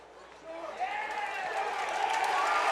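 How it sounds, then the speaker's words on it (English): Low crowd rumble from Mount Carmel Red Tornadoes fans in the stands at a high school varsity football game against Southern Columbia, a steady swelling murmur rising in volume, with no clear talk over it. "And that crowd rumbling is the Big Red faithful"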